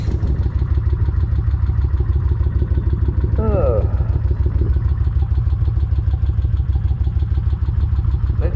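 A Kawasaki Vulcan 1600 motorcycle idling while warming up, with a steady, close, low pulsing engine note running unbroken and a brief higher mechanical whine partway through.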